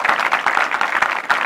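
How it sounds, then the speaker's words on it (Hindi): Clapping from an audience at a campus gathering honoring second-year students, a brief burst of dense, fairly loud, steady hand claps with no talk over it. "एक बार उनके लिए हम जोरदार ताली बजाएंगे।"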